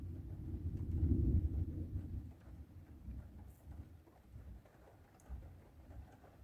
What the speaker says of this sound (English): I knew it was supposed to rain tonight.